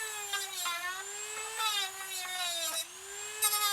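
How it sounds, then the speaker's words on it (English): A small rotary tool whines at a high steady pitch while sanding the edges of cut bamboo, its tone dipping briefly several times as the bit bears down on the material. "Now I'm just gonna use the little sanding part of this to finish the edges."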